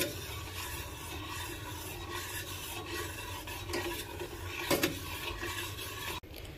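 A utensil stirs and scrapes food in a frying pan over a faint sizzle, a steady close-up rasp that runs continuously for several seconds.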